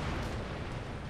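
Mortar and cannon fire from a battle in Empire: Total War (Darthmod, Ottoman Empire campaign) sound as a dense, continuous rumble of loud booming blasts, with no clear gaps between the explosions.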